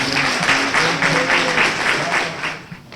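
An audience applauds Chief Judge Ingrid Driskell at a university ethics event, a loud, continuous round of clapping sustained throughout.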